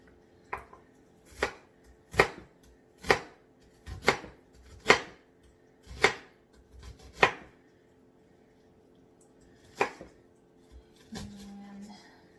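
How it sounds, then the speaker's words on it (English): A knife chops half an onion on a cutting board for guacamole, giving about nine sharp, close knocks at a steady, unhurried pace, then a pause, one more chop and a brief scrape. "Great chopping job."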